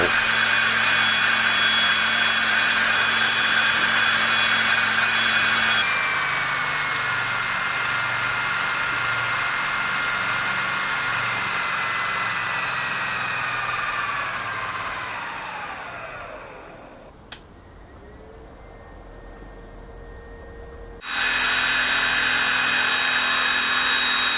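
A DIY drill stand motor on an 18-watt supply spins at about 2250 rpm with a loud, steady high whine. It winds down and stops partway through, then abruptly starts again at full speed.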